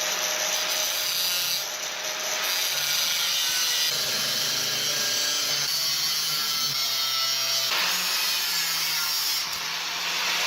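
A steel knife blank being cut out by hand, with steady back-and-forth rasping strokes running continuously and fairly loud, up close with no talking.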